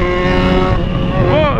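A Yamaha XJ6 motorcycle being ridden, its engine droning loud and close with rising harmonic whine as revs climb, wind rushing over the microphone, and a voice speaking over it.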